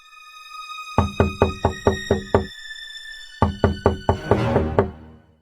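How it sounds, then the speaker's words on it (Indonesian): A wolf knocks on the straw door of a little pig's house in a children's cartoon, two bursts of six or seven sharp, close raps each, with a faint musical drone behind them. "Serigala mengetuk pintu."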